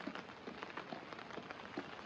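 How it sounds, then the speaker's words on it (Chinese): Rain falls in a steady, dense patter on surfaces outdoors on a rainy day, close and continuous with no voices. "爸爸下雨了，对不对？"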